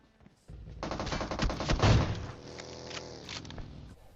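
A burst of rapid gunfire in PUBG Mobile rattles in a dense fusillade of shots lasting a few seconds, loud and close, then trails off.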